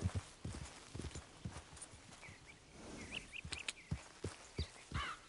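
A horse in Red Dead Redemption 2 trots along with distinct, evenly spaced hoof thuds, close and moderately loud, while faint bird chirps sit in the open-air background.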